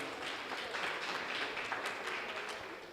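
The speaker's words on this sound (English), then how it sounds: "Please round of applause for Laila." An audience at an arts and culture panel event applauds a panelist, a fairly faint, steady patter of many hands clapping with no one speaking over it.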